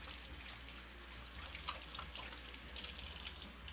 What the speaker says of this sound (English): Apologies if the water is loud.